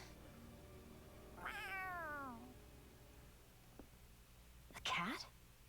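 A cat in the video game Tales of Arise gives a clear, drawn-out descending meow, followed a few seconds later by a second shorter, sharper meow, both quiet against a soft game backdrop with low voices.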